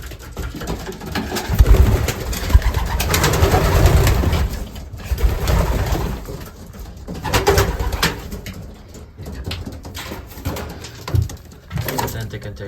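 Racing pigeons coo repeatedly inside a loft, low throaty calls rising and falling close by, mixed with wing flutters and shuffling, while a person talks intermittently in the background.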